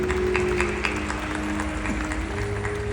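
A large crowd applauds at a poetry event with Kumar Vishwas at Mehendipur Balaji temple, a steady wash of clapping filling the whole stretch.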